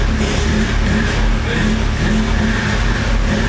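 Straight-piped Audi S3 engine running with a dense, loud, steady roar and deep low-end rumble throughout, close to the microphone, no gaps or pauses.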